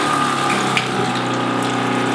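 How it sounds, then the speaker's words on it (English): Water rushes steadily through a Joolca Hot Tap Nomad portable gas water heater, with a continuous pump hum and gushing flow close by, and no talking over it. "I just saw the flame kick on right after I put the water on."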